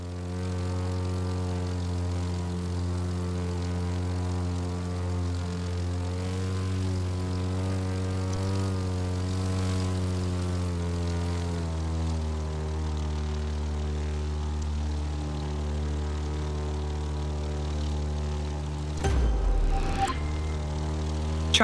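A propeller airplane drones steadily in the video game The Crew 2, a continuous engine hum with layered harmonic tones that shift slightly in pitch as the plane maneuvers, with a brief rushing burst near the end.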